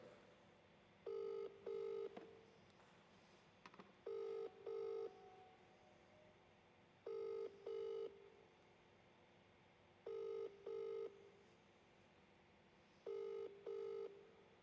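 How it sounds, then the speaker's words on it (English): Telephone ringing tone on a speakerphone call, five evenly spaced double rings repeating with short gaps, fairly quiet with no talk over it. "There's lots of ringing."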